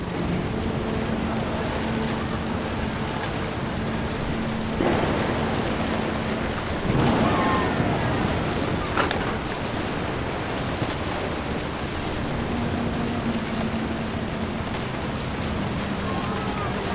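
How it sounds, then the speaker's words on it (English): Rain pours steadily in What Remains of Edith Finch with a low rumble of thunder rolling in midway. It is a loud, continuous hiss with a faint tonal hum, and no voices. "thunder sounded much too close and full of angry power"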